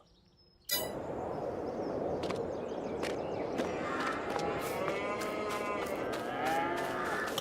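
Calves on a Farming Simulator 22 farm moo over a dense barnyard bed after an abrupt start, with metallic clangs and dings ringing out at intervals.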